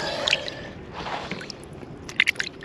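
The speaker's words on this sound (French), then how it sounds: "Je peux me laver les mains tranquillement. C'est bien d'avoir un seau d'eau tout le temps à côté." Hands splashing and squishing in a bucket of water beside an embankment fishing spot, with soft wet drips and sloshes in short clusters, close and fairly quiet.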